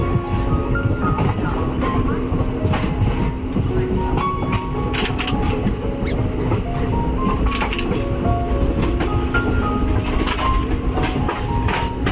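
From inside a crowded general coach, the Tutari train runs on the rails through the Konkan with a loud, continuous rumble and a repeated clickety-clack of the wheels. Faint rattles and creaks come from the carriage.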